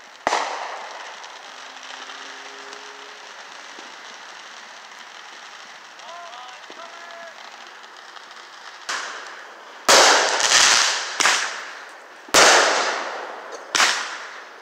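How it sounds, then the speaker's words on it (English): A steady hiss of distant crackling from Fourth of July fireworks gives way to several sharp, loud firework bangs, each followed by a crackling tail, spaced a second or two apart. "Enjoy fireworks for those people who cannot afford fireworks."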